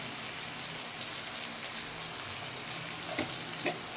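Turmeric-spiced masala for chicken biryani sizzles steadily in a pan, a continuous close frying hiss with a few faint stirring scrapes near the end and no talking.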